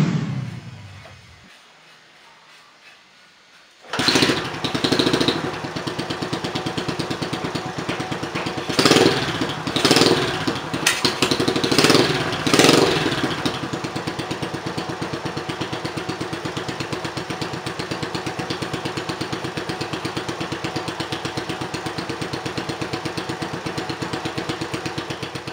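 A Honda S90Z motorcycle with a swapped Jupiter MX engine starts up after a quiet moment, then idles steadily and loudly close by, with a few brief throttle blips before settling into a constant rumble.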